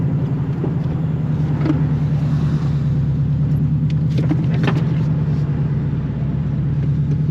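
A Subaru Impreza GC8 drives on the Nürburgring, its engine giving a loud, steady, close rumble throughout with a constant low drone and no pauses.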